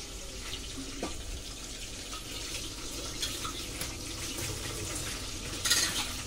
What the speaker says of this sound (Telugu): వాటర్ కూడా యాడ్ చేసుకున్నాం